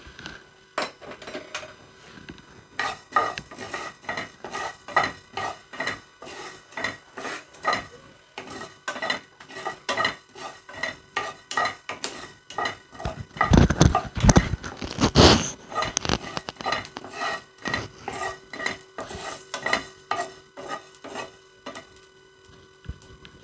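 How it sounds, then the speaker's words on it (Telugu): Coriander seeds dry-roast in a pan while being stirred, a run of rhythmic scraping and rattling strokes. A louder, busier burst of clatter comes near the middle, and no one talks. "ధనియాలండి 1 టేబుల్ స్పూన్ ధనియాలు వేయించుకుంటే సరిపోతుంది."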